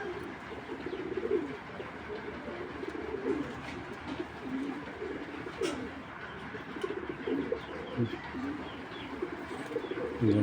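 Soft, throaty cooing comes from a Belgian black checker grizzle pigeon, a male, in repeated low bursts for about ten seconds over a faint, busy background.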